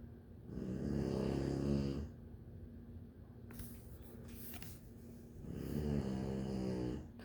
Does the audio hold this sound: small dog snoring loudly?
yes